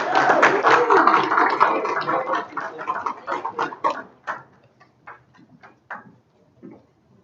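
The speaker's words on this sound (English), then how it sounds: "Another big round of applause." Applause from an audience at a board of education meeting, starting as a dense, loud wash of clapping, then thinning into scattered individual claps that fade out.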